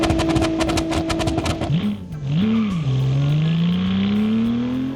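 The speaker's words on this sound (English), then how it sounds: "The engine has a strange warble to it" A 2001 Kia Stinger engine in the car-design game Automation revs with a warbling, wavering tone, then drops and climbs steadily in pitch as it accelerates, loud and close throughout.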